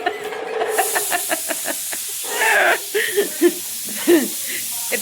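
A pressure cooker whistle hisses out steam while rice cooks, a bright sustained hiss rising over a steady rumble, followed by clattering kitchen sounds and brief indistinct voices.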